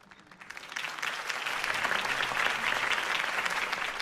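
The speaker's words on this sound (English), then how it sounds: "If only Mr. Wayne, my campaign's largest backer, could have heard that applause" A crowd's applause at a campaign speech in Batman: The Telltale Series builds quickly from quiet and holds as dense, sustained clapping with some cheering.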